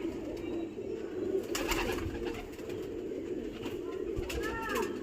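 Pigeons coo in low, continuous rumbling tones close by, with occasional higher chirps and someone talking over them.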